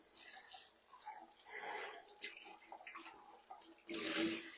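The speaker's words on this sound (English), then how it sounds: "I'm going to rinse this out" Tap water runs steadily into a kitchen sink while something is rinsed out during strawberry prep, with a brief louder surge of flow near the end; a person talks over the first part.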